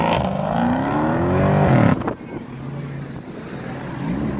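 At a car meet, a McLaren's engine revs and rises in loud, sweeping pitch, then cuts off abruptly and leaves a lower idle rumble with wind noise outdoors.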